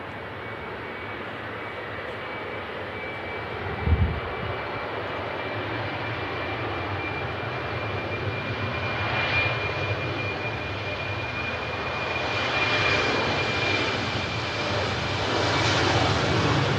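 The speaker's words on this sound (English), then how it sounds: "Very D-rated takeoff there from the Embraer." An Embraer jet airplane takes off at an airport, its steady engine roar swelling gradually and staying moderately distant, with a brief thump early on and no talk.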